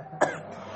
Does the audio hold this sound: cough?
yes